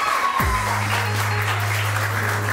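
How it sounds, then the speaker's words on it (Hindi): Studio audience applause for a guest named Tahreem on a Pakistani morning TV show, a steady wash of clapping throughout with a low hum underneath. "बहुत सारी तालियां तहरीम के लिए।"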